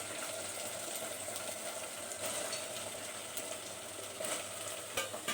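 Bitter gourd pieces fry with ginger garlic paste in a pan, giving a low, steady sizzle with occasional faint stirring clicks, quiet and close.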